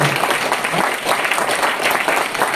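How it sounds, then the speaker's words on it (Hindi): Loud, sustained applause from a gathered audience, a continuous dense patter of many hands clapping together with no break. "जगत सिंह राठौड़ के लिए जोरदार तालियां होनी चाहिए।"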